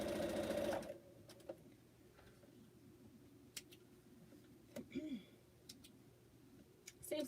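A sewing machine runs briefly at the start while quilt blocks are chain pieced, then stops, leaving a quiet room with faint clicks, a low hum and some soft background noise.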